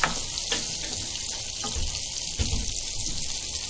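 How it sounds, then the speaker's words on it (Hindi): Butter sizzling in a hot pan, a steady bright hiss with faint crackles and a couple of soft low knocks, close and alone. "अभी ये मस्का डालेंगे, बटर डालेंगे।"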